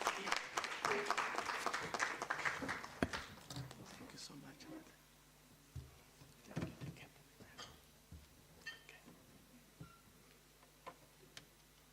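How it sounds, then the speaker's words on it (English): Scattered audience applause in a seminar hall welcoming a professor to the podium, a loud burst of claps in the first seconds that thins to sparse, fading individual claps. "Colleagues, let's warmly welcome Prof. Chiyoyo to the podium with a round of applause."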